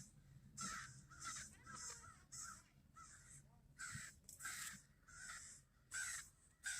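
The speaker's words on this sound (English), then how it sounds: "Listen to the crows going crazy." Crows caw outdoors in loud, repeated harsh calls, about a dozen bursts in quick irregular succession, with no voices.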